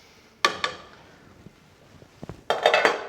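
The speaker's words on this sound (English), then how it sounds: "We're going to add our rice that we have washed 3 times" Washed rice tipped into a cooking pot, sharp clinking of metal and grains against the pot in two bursts, the second a rapid cluster of rattles, with quiet ticks between.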